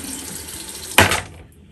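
A bathroom tap runs during tooth brushing. A low, steady trickle swells into a short, louder gush of water, then cuts off into near silence.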